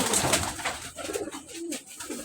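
White pigeons coo inside their coop, soft repeated throaty calls that overlap and rise and fall close by against a quiet background, with no talking.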